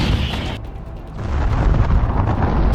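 Artillery shell explosion in combat near Pokrovsk: a loud, broad blast of noise that swells into a heavy, rumbling roar and keeps roaring to the end, with no voices.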